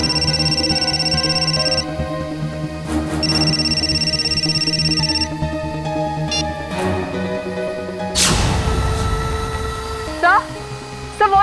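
A telephone rings steadily and loudly in a tense crime-drama scene, its repeated electronic tone running under dramatic background music, with a few sharp hits and swells partway through and no speech.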